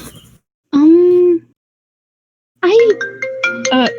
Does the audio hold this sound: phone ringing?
yes